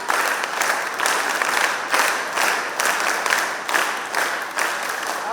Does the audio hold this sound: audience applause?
yes